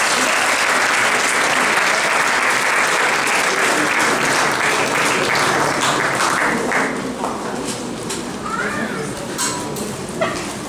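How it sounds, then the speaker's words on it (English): Congregation applauding pastors at a church gathering in Kenya, loud continuous clapping that softens toward the end, with voices rising over it. "Some congregations, give them a big round of applause."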